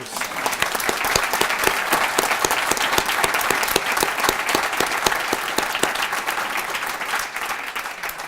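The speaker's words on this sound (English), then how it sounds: "so can I get another round of applause?" An audience at a naturalization ceremony at Bandelier National Monument breaks into loud, sustained applause, many hands clapping closely for about eight seconds, with a few sharp individual claps standing out.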